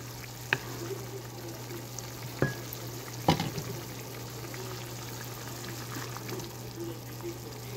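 Water boiling in a covered pot gives off a low, steady bubbling hum, broken by a few sharp clinks near the start and middle.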